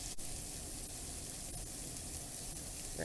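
Pork chops sauté in a pan, giving a soft, continuous sizzling hiss that stays even throughout, with no talking.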